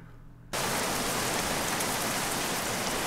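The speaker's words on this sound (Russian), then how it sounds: "там что-то с дождем стало, он очень начал шуметь" Loud, dense rain noise in the trucking video game 18 Wheels of Steel: Convoy, cutting in abruptly after a quiet half-second and then hissing steadily and evenly at high volume with no voices.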